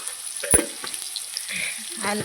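Ginger paste and onions frying in oil, stirred in the pan while ivy gourd fry is being prepared: a soft, close sizzle broken by a sharp clatter near the start and quieter scraping stirs after it.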